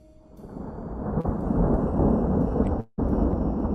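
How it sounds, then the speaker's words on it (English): Deep, sustained thunder rumbling loudly and evenly, swelling over the first second then rolling on with a brief sharp dropout near the end before resuming at full strength. "very clearly a rumble of thunder"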